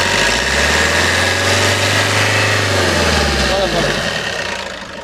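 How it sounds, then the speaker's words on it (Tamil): A used petrol car engine idles, then revs up into a rising hum and settles back down, a close, steady mechanical drone throughout. "அந்த இன்ஜின் நாய்ஸ் அப்படியே கேளுங்க."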